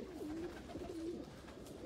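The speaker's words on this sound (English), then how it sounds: "I take the pigeon." Domestic racing pigeon, an international marathon ace bird from a loft visit, cooing in a few low, soft, rolling phrases close by, with faint room noise and no talk.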